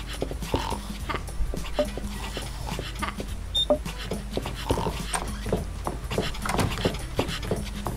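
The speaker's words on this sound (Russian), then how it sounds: "Да, собачка звуки издает." A small dog in the video game Neighbours from Hell panting and whimpering in short, repeated bursts, mixed with busy game noises and footsteps.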